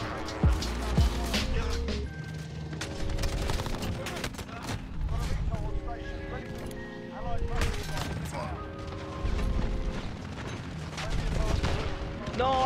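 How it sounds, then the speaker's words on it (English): A claymore mine blast rings out amid dense, continuous gunfire and crashes in a Call of Duty Modern Warfare match, with loud bursts throughout and voices talking over the action. "Wait, no, that was a claymore."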